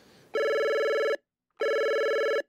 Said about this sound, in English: Last time I'm going to pick up this phone